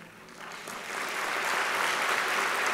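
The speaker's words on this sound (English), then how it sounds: "There's going to be a few, so you might hold your applause till the end." An audience at a ceremony acknowledging endowment donors breaks into applause that starts soft and swells into a dense, even wash of clapping within a couple of seconds.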